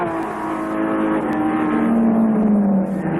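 A 1966 Sebring 12 Hour race car, a Ferrari among them, drives a hairpin. Its engine drones loud and steady with a rising, revving pitch, and other race engines blend in behind it.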